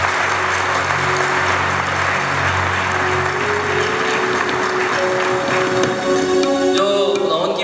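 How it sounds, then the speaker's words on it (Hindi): Audience applause at a live Christian worship concert in Dubai, a steady wash of clapping that runs the whole stretch with musical tones and a held note rising under it near the end. "आधी ताली ना बजाएं, पूरी बजाएं।"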